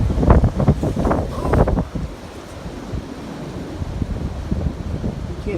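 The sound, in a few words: strong wind gusts during a major storm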